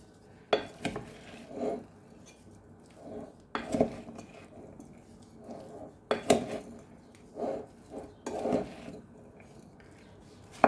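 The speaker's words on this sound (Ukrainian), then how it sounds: "І зараз гарненько все перемішаю" Spoon scraping and clinking against a pot while potato and meat pie filling with coriander is stirred, in a series of irregular knocks and scrapes close by, with no talk.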